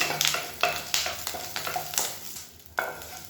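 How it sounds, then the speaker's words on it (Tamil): Curry leaves crackle and sizzle in hot oil, with repeated scraping strokes of a spoon stirring the pan, close up. "கருவேப்பிலை நல்லா வறுபட்டுருச்சு"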